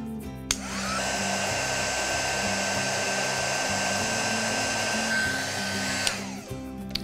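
A heat tool runs steadily, melting embossing powder on STIX2 beaded finger protectors; a continuous blowing whir starts suddenly, holds loud and even for about five and a half seconds, then cuts off.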